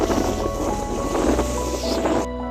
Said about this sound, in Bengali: আপনারা দেখতে পাচ্ছেন হাকালুকি হাওরের ঢেউ কেমন।